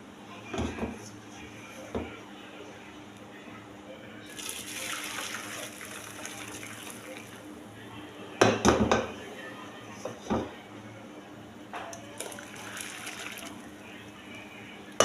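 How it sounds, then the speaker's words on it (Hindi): Chicken yakhni broth strained through a filter in a home kitchen, with bursts of pouring and splashing liquid, clinks of a pot and a few knocks against a steady low background. "बाकी यखनी हम फिल्टर कर लेंगे"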